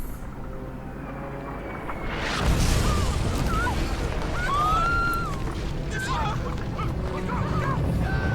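Incoming artillery shells land in the video game Valkyria Chronicles, near a windmill: a heavy booming impact about a third of the way in rolls into a long rumble. Whistling, chirping tones sound over the din, and game voices are faintly heard.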